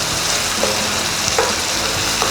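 Chettinad-style masala for paneer masala sautéing in hot oil in a pan, a steady close sizzle and crackle with occasional stirring scrapes and small pops throughout.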